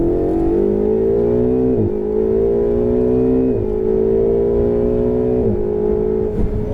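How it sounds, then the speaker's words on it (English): Ferrari 488 GTB engine pulling hard at full throttle, a loud close, steady rising whine that climbs in pitch through several upshifts, each marked by a brief dip before climbing again. "Building speed smoothly, now full throttle."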